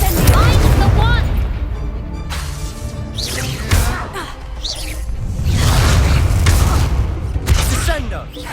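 Spell blasts in the Hogwarts Legacy video game, Levioso and Confringo among them: loud booming explosions and whooshing bursts in quick succession, with an excited voice shouting over the combat.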